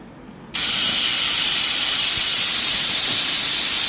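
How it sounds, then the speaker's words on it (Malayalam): A kitchen pressure cooker holding lentils vents steam. After a brief quiet moment it bursts into a loud, steady, close hiss that carries on unbroken to the end, with no voices. "നമ്മുടെ കുക്കർ വിസിൽ വന്നിട്ടുണ്ട്"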